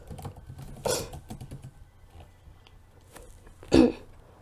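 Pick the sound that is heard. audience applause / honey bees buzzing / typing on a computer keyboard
typing on a computer keyboard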